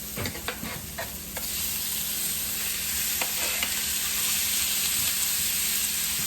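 Hunted game meat frying with onions in a pan, a steady soft sizzle with a few stirring scrapes and clicks early on, close but fairly quiet, no talking.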